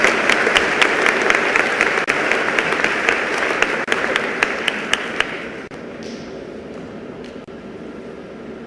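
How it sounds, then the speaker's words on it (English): Applause from a school audience at a Veterans Day program, steady and full for about five seconds, then thinning out and fading to a quieter room. "can we please give you just one more round of applause?"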